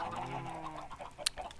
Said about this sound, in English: Yep, plenty of chickens here.